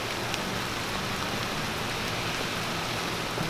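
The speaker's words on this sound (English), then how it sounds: "It's raining outside." Rain falls steadily outdoors, an even, unbroken hiss of drops on surfaces that stays close and constant throughout with no talking.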